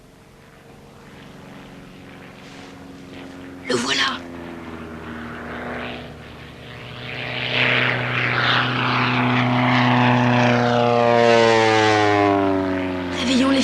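A propeller airplane drones overhead at night on an isolated moor, its engine swelling from faint to loud and steady as it passes low, with a brief spoken remark early on.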